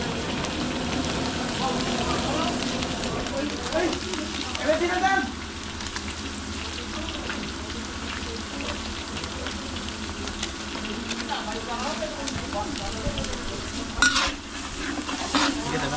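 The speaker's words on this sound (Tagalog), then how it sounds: "sasabay ko na yung aswete sa gisa para madali matunaw" Annatto powder is sautéed with aromatics in a catering-sized pan, giving a steady, close sizzle broken by occasional stirring scrapes, with some background voices.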